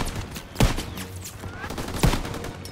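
Machine gun fire rattles in a Call of Duty: WWII battle, with two heavy bursts standing out over continuous background combat noise.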